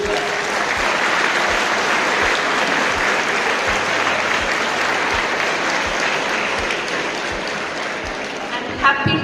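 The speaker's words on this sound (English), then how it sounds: "I think a round of applause to the school first" An audience applauds the school at its 20-year celebration during a guest talk at Velammal Matriculation Higher Secondary School, Ponneri, with loud, sustained clapping filling the hall throughout.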